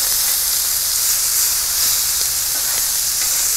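Bacon strips sizzling on a Pit Boss table top griddle, a steady dense hiss and crackle that stays loud and even throughout, with no voices.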